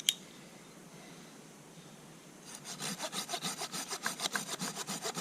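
A hand saw cutting into a piece of wood clamped in a plumber's vise outdoors at a camp, starting after a quiet stretch with a sharp knock, then steady rhythmic rasping back-and-forth strokes close by.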